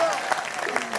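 An audience at a stage poetry performance claps steadily together for about a second, with a voice heard over the applause.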